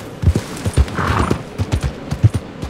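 Horse hooves clip-clop at a steady uneven rhythm in the Red Dead Redemption 2 video game, close and fairly loud, with a brief neigh-like tone midway.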